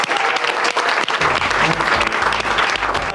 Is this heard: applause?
yes